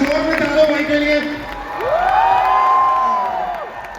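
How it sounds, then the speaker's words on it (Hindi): Audience at a success-day gathering in Delhi cheering and shouting, with a rising whoop over crowd noise; loud, dense and sustained, with voices mixed in. "दोस्तों जोरदार तालियां हो जाए यार, बजा दो यार तालियां।"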